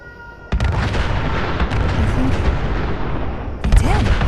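Distant heavy gunfire booms and rumbles in Fallout 4 with the Sim Settlements 2 mod, a dense continuous barrage with a sharp onset and a louder burst near the end, with a voice heard faintly.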